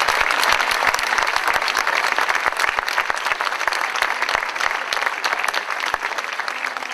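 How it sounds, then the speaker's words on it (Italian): Steady, dense applause from a lecture audience, loud and continuous throughout with no pauses. "E io a questi ragazzi farei un grandissimo applauso."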